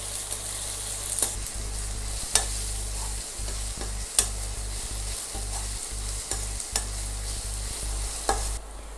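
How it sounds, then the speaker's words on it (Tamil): Onion, garlic and curry leaves sauté in hot oil with a steady close sizzle, punctuated by occasional sharp clicks of a spoon stirring the pan, and no voices. "வெங்காயம், பூண்டு, கருவேப்பிலை எல்லாம் 2 நிமிஷம் நல்லா எண்ணெயில் வதக்கிருக்கிறோங்க"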